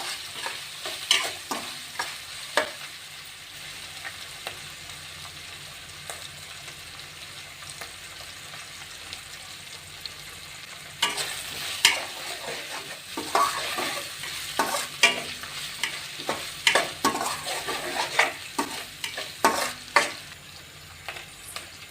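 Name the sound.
onions and turmeric being stirred and fried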